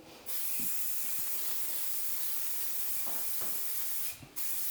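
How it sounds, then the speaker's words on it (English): Deep cleaner sprayed onto bathroom tiles, a sustained close hiss running almost unbroken, with a few soft knocks and brief pauses at the start and end. "now we're gonna clean with this deep cleaner and then we'll see"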